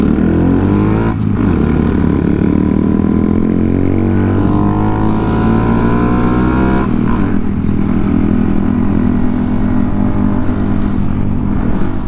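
A Honda Monkey motorcycle riding on a freeway, its small engine droning loud and continuous with rising and falling pitch as it shifts gears, mixed with heavy wind rush and no speech.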